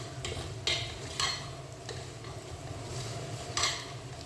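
Curry mix spices, turmeric powder and goat trotters stirred in a cooking pot, with a few sharp metal-on-pot clinks and scrapes over a low steady background hum, fairly faint and without talk.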